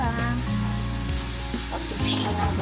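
Mixed vegetables with shrimp sauté in a home-style Filipino pan dish, a steady close sizzle that runs the whole time, with faint tonal sounds layered over it.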